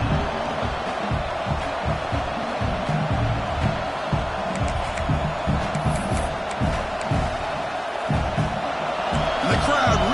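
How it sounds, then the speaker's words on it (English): A large stadium crowd at a Clemson vs South Carolina football game roars continuously, with loud overlapping shouting and cheering throughout. "the crowd really making some noise now"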